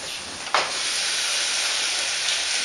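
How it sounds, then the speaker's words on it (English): Tomatoes hitting a hot saucepan set off a loud, steady sizzling hiss, with a sharp burst as they land and a constant close spitting roar afterward, no voices. "After that, we're going to put in the tomatoes into the saucepan."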